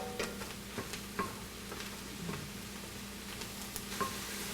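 Sliced mushrooms sauté in a pan with a soft, continuous sizzle, broken by light clicks and taps from stirring spread through the sound, quiet and close.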